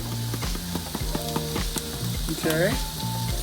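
Garlic and onions sauté in a pan over medium heat for a Philly cheesesteak, a close steady sizzle with stirring and clattering utensils, and a brief spoken word partway through.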